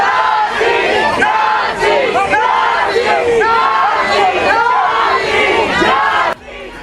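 A protest crowd outside a federal building in Minneapolis at night shouts rhythmic slogans against US immigration and customs enforcement, many voices chanting together loudly and continuously, dropping away near the end.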